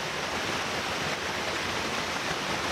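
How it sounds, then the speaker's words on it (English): Fallingwater Cascades waterfall on the Blue Ridge Parkway, heard from right at its base: a steady, dense roar of falling water, loud and unbroken, with no voices. "We are right at the base of the waterfall."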